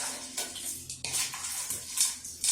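Pasta being stirred in a very full cooking pot, with scraping and clinking of utensil against the pot in irregular bursts, close and moderately loud, no voices.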